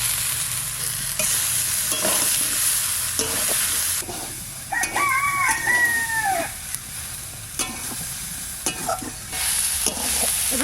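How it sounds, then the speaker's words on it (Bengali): Eggplant with green chilies and garden vegetables frying in a pan. A steady sizzle runs throughout with stirring scrapes, and a rooster crows in the background partway through. "এবার বেগুন দিয়ে দিচ্ছি"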